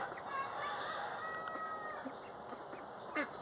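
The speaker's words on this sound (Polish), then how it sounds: "Wypuszczam kury dzisiaj a o piątej." Chickens cluck quietly in the background amid outdoor ambience, with scattered short calls from the flock.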